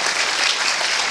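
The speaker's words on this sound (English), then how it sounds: "Please give a round of applause to Rodney." Audience applause for a presenter at a CGBC 2010 talk, a dense, steady wash of clapping from a crowd that holds at a loud, even level throughout.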